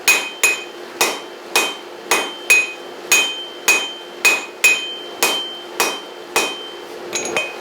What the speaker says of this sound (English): So you're going to strike, turn 90 degrees, strike, and then keep going back and forth like that